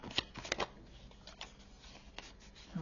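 Tarot cards are handled and shuffled close by during a reading spread, with soft papery slides and light taps at low volume.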